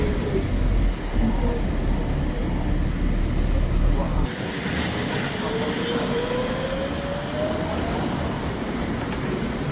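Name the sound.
whine of a 2007 Nova Bus engine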